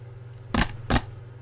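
Two quick, dull slaps of tapping on skin close to the mic, a fraction of a second apart, over a faint steady hum.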